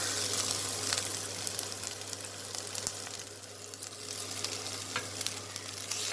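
Chopped ginger, garlic and chili sauteing in about one and a half tablespoons of hot oil for roti noodles, a steady close sizzle with occasional spatula stirs and faint clinks, no talking.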